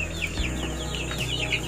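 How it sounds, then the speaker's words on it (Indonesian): Free-range village chickens cluck and chirp close by in a short flurry of repeated calls over a low steady background hum. "Nah itu ayam kampung ya"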